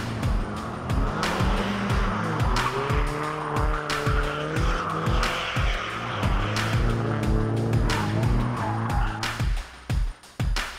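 A modified car skids repeatedly on a driver training course. Loud engine revs rise and fall, with tires squealing in long sweeping bursts, close and continuous, ending in a few choppy throttle blips.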